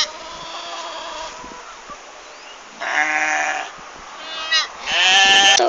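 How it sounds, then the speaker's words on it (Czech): Sheep on a farm bleat in several short, loud calls, with a closer burst near the middle and a louder cluster at the end, separated by quieter stretches of background noise. "Teď jsou ty ovce."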